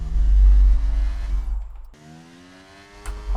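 F1 23 race cars rev loudly at the start of a game race, a dense engine roar that drops away briefly mid-way before the revving climbs back, with no talking.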